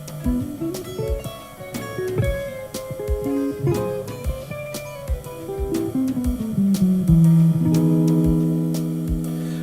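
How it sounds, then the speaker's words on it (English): Stacked major seventh chords ring out one after another on an instrument, with crisp plucked attacks, a steady rhythm and sustained tones, played alone. "just a demonstration of this major 7 stacked third pattern."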